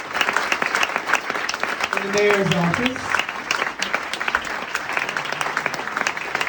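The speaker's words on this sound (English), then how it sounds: "Let us give a round of applause to Ned Segal" An audience at Manny's claps for Ned Segal, a dense round of applause that runs throughout while someone speaks over it and a brief tonal sound rises in the middle.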